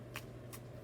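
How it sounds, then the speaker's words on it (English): Tarot cards are shuffled in two quick, soft riffling bursts about a third of a second apart over a quiet background hum. "I'm going to be essentially shuffling up, looking for your major, which is the Chariot"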